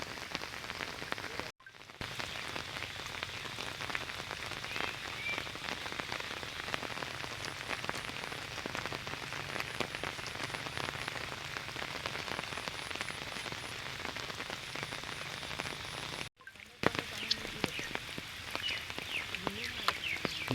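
Heavy, continuous rain pours down over a flooded tea garden, a dense steady patter close by that runs without a break, cut only by two short dropouts.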